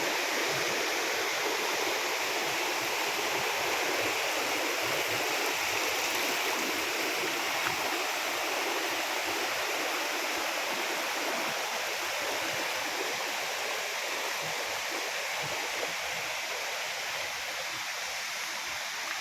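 A stream flows steadily past rocks at a spot being turned into a tourist site, its constant rushing wash close and alone throughout.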